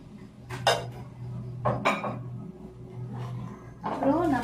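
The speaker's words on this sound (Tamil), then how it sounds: "இப்போ இந்த டிஷ் செய்யறதுக்கு இந்த எக்கை நான் இதில் மிக்ஸ் பண்ணிடுவேன்" An egg being mixed in a bowl for a home-cooked dish: short bursts of clinking utensil against the bowl, moderately close, with a person talking in between.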